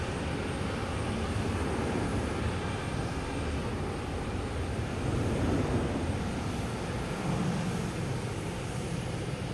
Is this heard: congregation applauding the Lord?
no